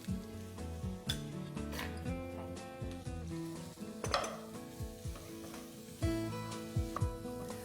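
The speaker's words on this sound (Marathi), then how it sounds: "आता आपण कांदा घालूया याच्यात चॉप्ड अनियन्स साधारण दोन कांदे" About two chopped onions sizzle in a pan for daliya khichdi, with a steady frying hiss, scrapes of a stirring spoon and clinks of metal against the pan, close and continuous.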